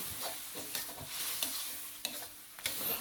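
Basil and holy basil leaves stir-fried over high heat with dried chili and striped catfish: a steady hot sizzle broken by several sharp scrapes and clacks of a spatula against the pan, close up and without talk.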